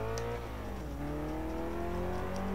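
A Ferrari F40 engine in the racing game Test Drive Unlimited 2 holds a steady, loud drone, its pitch dipping briefly before climbing again in a continuous rev with no talking.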